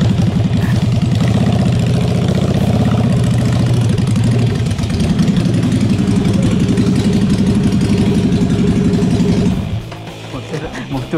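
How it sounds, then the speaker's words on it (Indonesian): A motorcycle engine starts, then putters and idles at a steady low rumble close by, running continuously before dropping off near the end. "Tak larat aku terpaksa start enjin."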